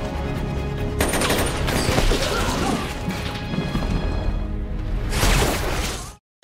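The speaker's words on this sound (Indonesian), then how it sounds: "Hingga dengan akurasi tembakan yang top markotop, Gazakop akhirnya tumbang" Sniper rifle fire in a war film, with loud dense bursts of shots and crashing impacts filling the scene before cutting abruptly to silence.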